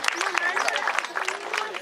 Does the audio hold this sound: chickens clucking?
no